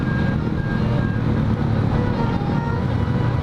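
Small 150 cc motorcycles pass along the noisy Pantura road in Indonesia, a continuous loud roar of engines and road traffic with no pauses.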